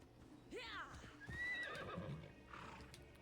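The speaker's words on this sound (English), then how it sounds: "Get out of the way, horse." A horse in the video game Assassin's Creed Odyssey gives a rising, shrill whinny and snorts amid clip-clopping hooves, fairly close, while a person talks over the game sounds.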